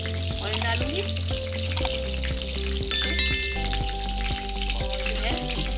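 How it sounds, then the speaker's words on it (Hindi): Oil frying in a cooking pot with a little water while a fish curry is made, a steady broad sizzle running throughout with a few faint clinks and taps over it. "इसके अंदर जो है मैं ऑयल डालूँगी"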